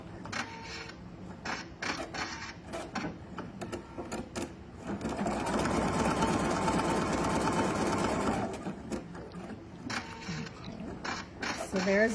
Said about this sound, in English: we're going to put it back in the machine and we're going to stitch that one